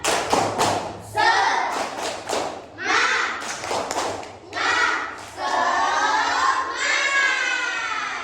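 A primary school class performs a rhythmic spirit clapping chant, sharp bursts of unison claps alternating with children chanting loudly in a classroom.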